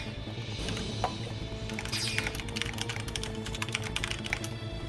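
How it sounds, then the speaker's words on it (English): Rapid typing on a computer keyboard produces a dense stream of close, crisp key clicks with occasional louder strokes over a low steady background hum. "Oh my god, I love this typing speed."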